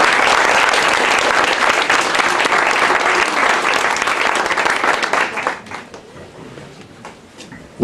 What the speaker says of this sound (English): Give a warm applause to Professor George Sugai.